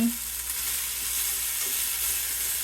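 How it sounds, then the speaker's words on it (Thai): Sun-dried pork frying in hot oil, a close, steady sizzle and crackle with faint stirring, no voices over it. "หมูแดดเดียว พอทอดให้เรียบร้อยแม่บ้านชอบเอาเหลืองๆกับกรอบน้อยหนึ่ง"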